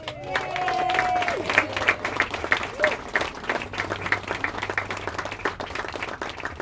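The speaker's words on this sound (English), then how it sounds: "We're going to give them a round of applause." Wedding guests at an outdoor garden ceremony applaud the bride's parents, a steady round of clapping from a crowd that swells early and carries on for several seconds, with faint voices and a few higher tones mixed in.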